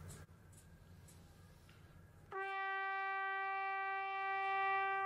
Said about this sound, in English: now if I do that same thing into the mouthpiece and then into the trumpet